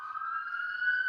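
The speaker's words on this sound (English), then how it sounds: "sorry about the sirens." Emergency vehicle sirens wail as a steady high tone, moderately loud and sounding at some distance, holding without a break and heard alone.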